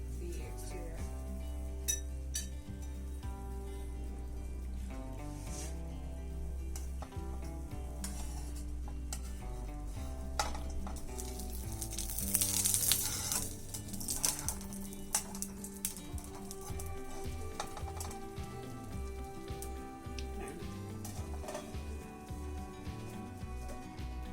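A fluffy pancake frying in oil in a pan, with a low continuous sizzle beneath frequent clinks and scrapes of a utensil against the pan, fairly close and without speech.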